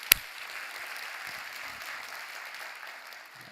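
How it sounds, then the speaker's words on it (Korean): A church congregation at a Sunday worship service claps in praise, a soft, steady patter of applause from a distance after one sharp knock at the start. "우리 하나님께 감사와 영광의 박수 올려드리겠습니다."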